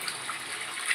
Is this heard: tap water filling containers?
yes